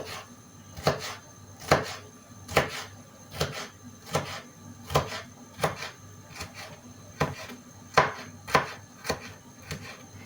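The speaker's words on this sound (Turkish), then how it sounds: "Küçük kareler şeklinde kapya biberimi doğruyorum." A knife chopping capia pepper into small squares on a cutting board: about a dozen sharp, evenly spaced taps at a steady rhythm, close and clear, with no talk.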